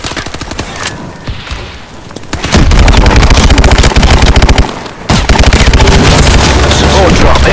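Heavy automatic gunfire in the Call of Duty Advanced Warfare Exo Survival mode, loud sustained bursts with booming impacts and explosions, a brief lull midway before the firing resumes at full intensity, with game voices mixed in.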